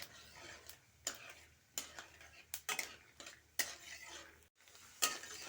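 Peanuts frying in refined oil in a kadhai, a faint crackling sizzle with intermittent scrapes and clinks of a ladle against the pan, quiet and close; no talk.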